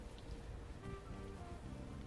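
Steady rain falling at night in the Unavowed game, a soft continuous patter spread evenly throughout with faint tonal ambience underneath.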